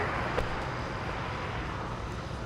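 Large airliner on final approach into LAX, a steady broadband jet roar holding at even loudness throughout, fairly distant with no other sounds standing out.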